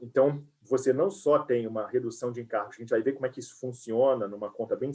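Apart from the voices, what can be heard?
No everyday noises stand out.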